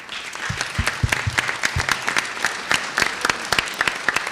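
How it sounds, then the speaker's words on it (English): A town hall crowd at Borough Hall in Brooklyn applauds NYPD officers, with steady, dense clapping that carries on throughout, fairly close and even in loudness. "I want to give a big round of applause"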